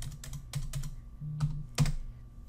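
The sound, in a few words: typing on a computer keyboard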